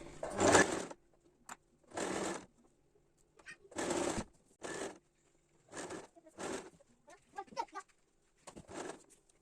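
A sewing machine stitches a backtack on the lining of a lined Azhar turban: about seven short, close whirring bursts separated by brief pauses, with nothing else in the room.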